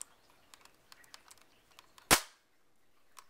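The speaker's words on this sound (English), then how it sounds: "on the bottom, you just click the button." A single sharp, loud click sounds as the button under an airsoft spring MP5 releases the bolt, standing out against faint handling noises and a quiet room, followed by a tiny click shortly after.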